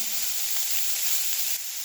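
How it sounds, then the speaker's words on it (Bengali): Chopped banana stem fries in a little oil in a wok, giving a continuous bright sizzle and hiss that stays even throughout the short stretch with no talking. "কড়াই সামান্য তেল দিয়ে এই ঠোঁটটাকে একটু নেড়ে নিচ্ছি একটু ভাজা ভাজা করে নিচ্ছি"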